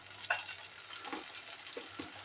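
Mukkutti juice being stirred into bubbling jaggery syrup in a pan makes a soft, faint sizzle with a few light scrapes of the stirring spoon, no voices.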